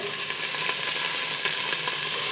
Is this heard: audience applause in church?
no